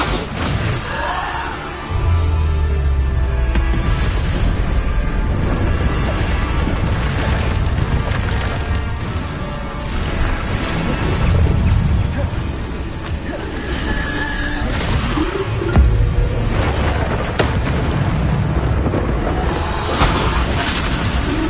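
Bombarda spell explosions and crashing combat effects from the Hogwarts Legacy video game, with dense, loud, overlapping blasts and splintering impacts running continuously for about twenty seconds.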